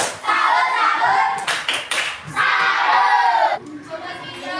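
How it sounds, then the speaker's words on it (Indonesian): A school class performing the 'tepuk salut' clapping routine, bursts of many hands clapping in quick rhythmic patterns mixed with children's chanted voices, loud and close in a classroom. "Tepuk salut."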